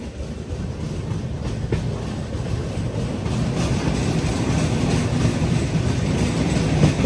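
Grand Trunk Express, an old long-distance Indian passenger train, running on rails near Manchiryal; a steady, continuous rumble of wheels and carriage noise, growing slightly louder, with no talk.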